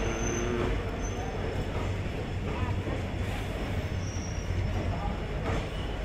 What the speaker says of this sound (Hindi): और पीछे हमारी ट्रेन खड़ी हुई,